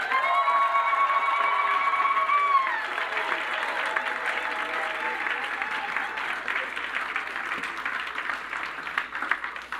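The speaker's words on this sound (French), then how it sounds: "On va offrir au Seigneur une offrande d'acclamation et de cris de joie" A church congregation applauds and cheers in praise during a French-language worship service, with steady clapping, scattered shouts and sustained tones from music or voices in the first few seconds, continuing for about ten seconds.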